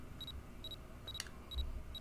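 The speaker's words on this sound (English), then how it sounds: "Mega Man is beeping, and beeping, and beeping" Repeated short, high electronic beeps from Mega Man in the video game Mega Man Battle Network 4 Red Sun, sounding in an even rhythm at low volume over a soft game background.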